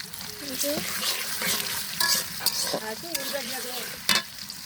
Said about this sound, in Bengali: মশলাগুলো কিন্তু হালকা ভেজে নিতে হবে।